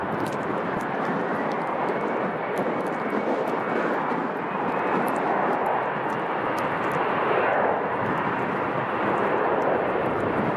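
A Boeing 757 jet taxiing out at Chicago O'Hare in winter, a steady distant engine roar and whine that holds evenly throughout with no voices.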